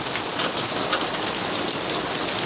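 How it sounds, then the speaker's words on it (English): Rain falls steadily during a thunderstorm in a garden, patters close around and on nearby surfaces, dense and loud throughout with no speech. "You can hear the raindrops."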